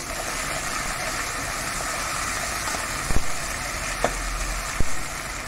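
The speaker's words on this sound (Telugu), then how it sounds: "ఫ్రై చేసుకొని" Mint and coriander fry with ginger garlic paste in a pan for a green peas pulao, giving a steady close sizzle with a few soft knocks of a spoon against the pan.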